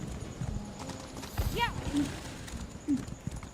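Horse hooves clip-clop while riding in the Elder Scrolls Online video game, a light rhythmic trot under a man's speech, with a short whinny-like call and game sounds mixed in.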